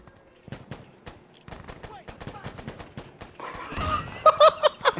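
Shooting in the video game Insurgency: Sandstorm: a rapid string of sharp gunshots, some spaced and some in quick bursts, growing louder near the end with brief voices and laughter.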